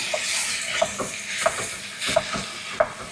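Minced meat hits a hot pan with garlic and sizzles steadily, punctuated by a series of about five sharp scraping stirs at regular intervals, close and moderately loud with no talking.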